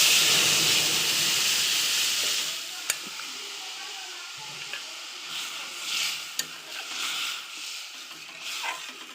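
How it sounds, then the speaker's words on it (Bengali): Masoor lentils with green mango are poured into a pan of hot fried dried red chillies and mustard seeds, setting off a loud burst of hissing sizzle and steam that gradually settles into a softer simmering crackle with a few sharp clicks. "এবার ডালটা ঢেলে দেবো।"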